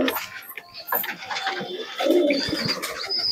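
Two pigeons coo in repeated soft, throaty calls at close range, steady through the stretch, with faint chirping and low background noise.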